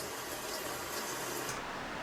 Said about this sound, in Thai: นี่คือเสียงของฝนตกนะครับ